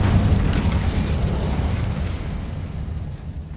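Confringo spell explosions in the video game Hogwarts Legacy produce a loud, sustained, rumbling blast that slowly fades over a few seconds, with no voices heard.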